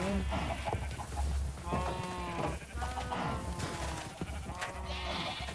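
Minecraft sheep give several short, wavering bleats at close range over farm ambience, with a player talking nearby.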